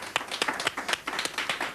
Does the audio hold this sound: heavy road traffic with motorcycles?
no